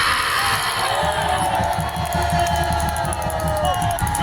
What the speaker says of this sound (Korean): 대표님을 큰 함성으로 모십니다